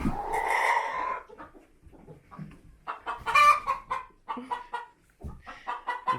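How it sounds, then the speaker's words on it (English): A hen clucks in short, irregular bursts close by, with a few longer drawn-out calls mixed in. "That hen over there is just about ready to lay an egg."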